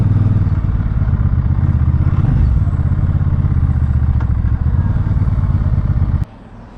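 A Benda bobber motorcycle engine idles at low RPM, a loud, close, steady deep thumping rumble that runs unbroken for about six seconds before dropping abruptly away.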